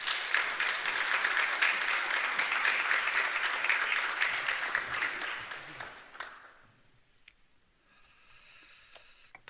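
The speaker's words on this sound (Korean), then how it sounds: "환영의 박수 드리겠습니다." A church congregation claps in welcome during a Sunday worship service, a dense sustained round of applause that fades out after about six seconds, followed by quiet room tone and faint sounds.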